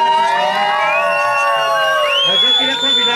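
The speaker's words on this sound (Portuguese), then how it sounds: "Uma salva de palmas para ele." Cheering and whooping from an audience at a reconciliation surprise event in Santo André, loud and continuous, with shouting voices layered through it but little distinct clapping.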